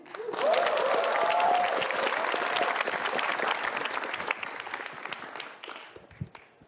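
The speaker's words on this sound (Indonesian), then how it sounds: "Beri tepuk tangan untuk Arif Didu" Audience applause at a stand-up comedy show welcoming comedian Arif Didu, a sustained wash of clapping with a voice briefly over the start, tapering off toward the end.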